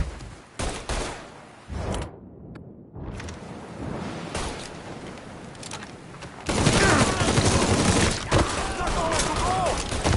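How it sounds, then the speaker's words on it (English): Heavy gunfire in Mafia III, dense bursts of shots crackling throughout, growing louder and more sustained in the second half, with a voice talking over parts of the firefight. "He's shooting the shit out of me."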